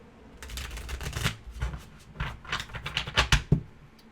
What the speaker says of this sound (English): So I don't think I can rifle shuffle this, because this is such thick cardstock.